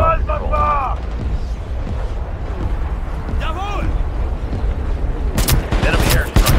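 Artillery fire in the multiplayer shooter World War 3 on the Warsaw map, heavy booms and rapid gunfire bursts building toward the end, with game voice callouts spoken over the battle.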